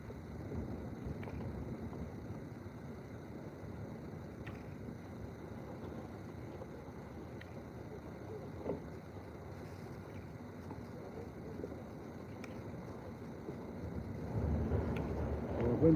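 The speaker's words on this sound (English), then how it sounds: "Wind's kicking up." Wind blows across a frozen lake during ice fishing at Cascade Lake Park in Rochester, Minnesota, a low steady rumble against the microphone that swells louder near the end.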